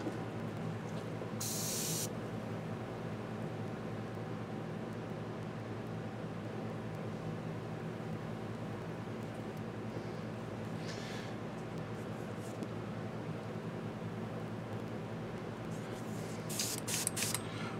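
Short hissing bursts from an airbrush spraying skin-tone paint on a Reaper Hill Giant Lowland Warrior miniature: one brief burst near the start and another near the end, separated by a long stretch of steady low room hum.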